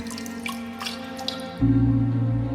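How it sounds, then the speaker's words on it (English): Water drips in a dark, echoing cellar, a few separate plinks ringing out against a low hum before a deeper droning sound swells in underneath. "the sound of dripping water echoed eerily"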